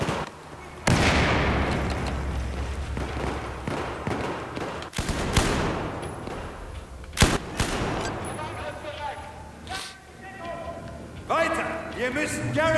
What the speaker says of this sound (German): Oh, Granate.